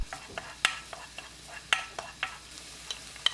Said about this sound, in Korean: 식용유 한 스푼, 다진 마늘 넣고 중불에서 30초 볶아줍니다